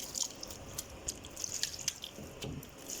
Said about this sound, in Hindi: मैं इसके अंदर पानी डालने लगा हूँ।